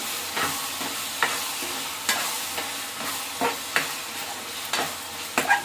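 Cabbage fritter gravy curry simmers in a pan while a spoon stirs it, with soft bubbling sizzle under sharp periodic scrapes and taps against the pan, no talk.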